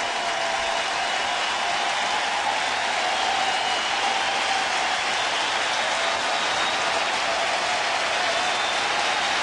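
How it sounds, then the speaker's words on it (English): A baseball crowd at a Padres away game against St. Louis gives a player sustained applause, a dense, steady roar of clapping and cheering that holds evenly throughout. "And listen to the applause for David Eckstein."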